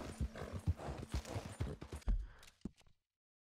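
Horse hooves clip-clop steadily in Red Dead Redemption 2, a close rhythmic stream of hoofbeats that slows and stops near the end, without an evident whinny.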